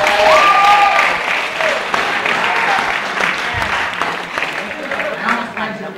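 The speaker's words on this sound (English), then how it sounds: "Let's give Devin a nice round of applause." A live audience at a mental-math and magic show bursts into loud, close applause for a volunteer, with a whistle near the start and crowd noise continuing under scattered voices.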